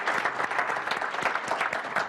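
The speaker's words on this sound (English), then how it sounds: "Let's give them a great round of applause" An audience at a marketing talk claps warmly, a dense, even burst of many hands at close range lasting the whole moment, with no voices over it.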